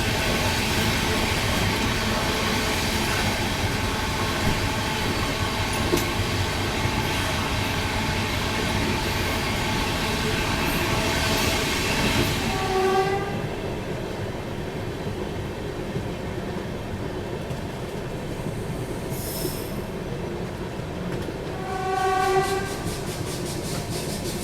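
The Dibrugarh Rajdhani Express runs at speed past Thana Bihpur railway station, a loud steady rumble and clatter of wheels on rails, with horn blasts sounding partway through and again near the end.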